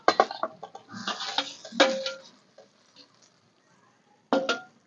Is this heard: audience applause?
no